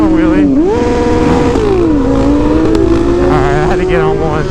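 A motorcycle engine revs up and down loudly and close by, its pitch climbing and dropping in sweeping bursts while people talk and shout nearby.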